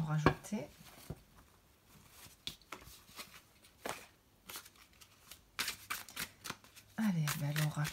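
A deck of oracle cards gets shuffled close by in quick, crisp riffling bursts with short pauses between them, and someone talks softly at the end.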